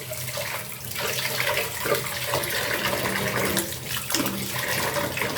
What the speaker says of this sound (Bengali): পোলার চালটাকে ভালো করে ধুয়ে নিতে হবে। তো এভাবে ধুয়ে নিব।